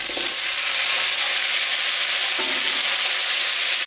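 Jackfruit pieces and potato are frying in hot oil in a pan, with bay leaves in the oil. The sizzle is loud, close and continuous for a few seconds with no one talking.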